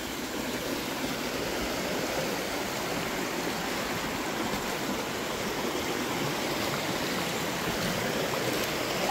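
Water from a river cascades down into Dzoumogné lake on Mayotte, a steady, full rushing and splashing roar that holds unbroken and fairly close throughout, with no voices.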